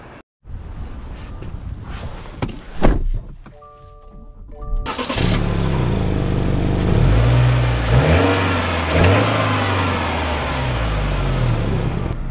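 A 2025 Subaru Outback Onyx XT: a few faint clicks, a brief tone and a rising engine note lead into a steady engine drone with shifting revs and road noise while driving.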